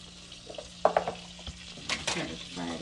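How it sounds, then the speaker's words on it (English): A small batch of onions goes into a hot skillet over lowered heat, with a few quiet clattering drops and short bursts of sizzling in an otherwise calm kitchen. "I'm getting ready to put the onions in the skillet"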